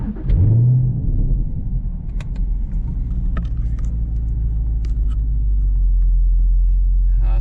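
Sixth-generation Chevrolet Camaro running on E85 fuel, driving along with a steady, deep engine and exhaust drone close by, a brief rise in revs at the start, then a constant low rumble throughout.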